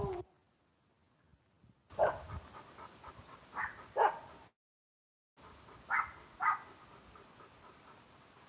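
Dog barks and yips at an outdoor fiesta and car show in Chimayo, New Mexico: short, fairly close bursts in two clusters, separated by quiet gaps, with no talk over them.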